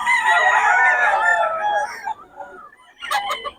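A white Kelso gamefowl rooster at a Bocaue sale crows loudly and close for about two seconds, followed by a brief pause and a shorter burst of clucking.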